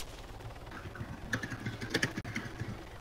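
A computer keyboard is struck hard and fast, a close, busy clatter of keys with uneven bursts of heavier taps over faint background noise.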